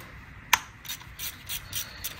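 A size 10 hex nut being undone with a ratchet, one sharp metallic click followed by several lighter, quieter ratcheting clicks at an uneven rhythm, close by.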